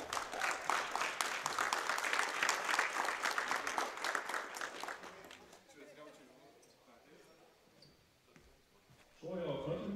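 Applause for the winners at an Icelandic national deadlift championship, a loud, dense crowd clapping that fills the first half, tapers off to near quiet, then swells again at the end.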